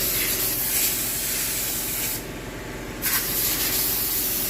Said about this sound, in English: blowing out an air cleaner